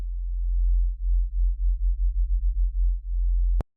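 A Serum synth sub bass wobbles under sine-wave modulation, pulsing in a steady run of rapid throbs for about three seconds before a sharp click ends it, heard alone.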